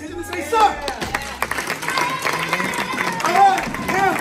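Karate students at a graduation clap in sharp unison on command amid drill movements, with an instructor calling out steps over scattered claps and shuffling.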